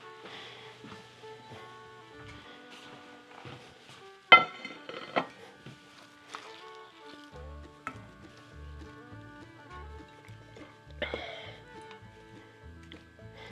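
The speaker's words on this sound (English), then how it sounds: "we're going to put the mixture into the skillet." Apple walnut cake batter going into a cast iron skillet, heard as scattered clinks and scrapes of a utensil on metal and dishes, with one louder clatter near the middle and a quiet, intermittent low hum in the background.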